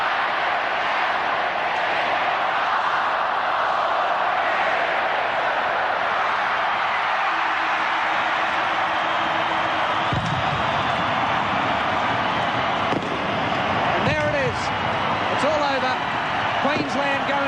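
A packed stadium crowd at the 1989 State of Origin Game 3, Queensland versus New South Wales, roars in a continuous dense wash, swelling as the final seconds run out, with a commentator's voice cutting in over it.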